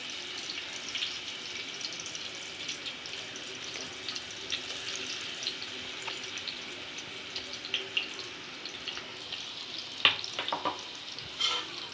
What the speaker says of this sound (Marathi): हा हिरवा मसाला मी त्यामध्ये वाटलेला तेलामध्ये घालते.